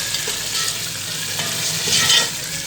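Mutton stirred into sizzling masala in a pot for kadu gosht, a steady close frying hiss with soft scraping stir strokes throughout, swelling briefly louder near the end.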